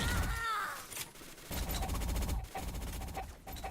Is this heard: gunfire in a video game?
yes